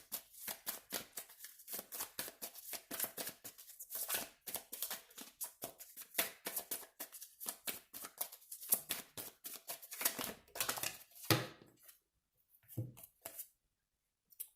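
Tarot cards are shuffled and drawn in a steady run of quick riffling, flicking and slapping bursts, close and fairly quiet, before a few sparse card snaps near the end.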